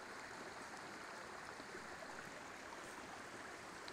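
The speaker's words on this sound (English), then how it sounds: "A High Sierra stream crossing. Babbling brook." Babbling brook at a High Sierra stream crossing in the Sierra Nevada, water running beneath a bridge, a steady broadband rush with no pauses, moderately faint and heard alone without voices.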